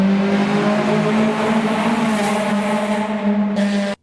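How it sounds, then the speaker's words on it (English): A Honda Civic with a K24 engine revs hard up close, a loud buzzing exhaust note holding steady for a few seconds before abruptly cutting off. "This is a K24 Honda Civic."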